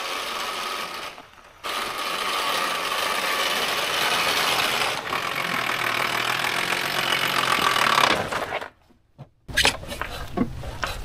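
A vehicle engine with an automatic transmission turns over and settles into a steady idle, a close, continuous mechanical drone that cuts out briefly, then returns with rougher clatter near the end.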